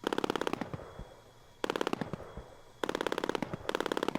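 Bursts of rapid fire from a 20mm nose cannon on an aircraft in Flyout, three short strafing bursts separated by brief pauses, each a fast crackling string of shots at moderate volume.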